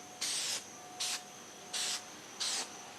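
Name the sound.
spray paint can spraying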